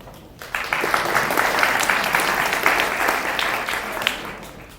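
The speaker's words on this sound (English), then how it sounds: "One more round of applause for all of our judges." A crowd at a makeathon in New York City claps for the judges, a sustained burst of applause lasting several seconds after a brief quiet start.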